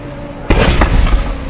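Vehicles burning after a collision explode with a sudden loud blast followed by a second crack and a rumbling, crackling tail.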